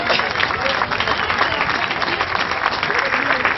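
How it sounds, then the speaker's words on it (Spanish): A studio or event audience applauds in memory of Félix Lara, a full, even roar of many hands clapping without pause. "este es el aplauso porque Félix Lara sigue estando presente."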